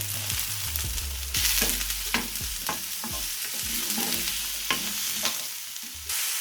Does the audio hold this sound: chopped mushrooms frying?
yes